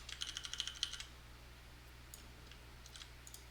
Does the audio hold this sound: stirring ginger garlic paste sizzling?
no